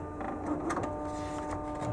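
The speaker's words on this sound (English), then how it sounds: "Sounds like printer calibration or cleaning." A printer running a calibration or cleaning cycle beside a medical spectrometer, giving a steady mechanical hum with faint whirring and soft clicks over two seconds at moderate, close level.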